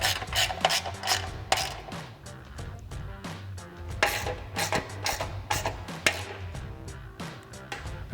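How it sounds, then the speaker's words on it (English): Rapid clicking of a socket ratchet tightening diffuser bracket bolts on a 2018-2023 Ford Mustang, close and crisp, in quick bursts of ratcheting strokes with short pauses between. "tighten it down with the socket."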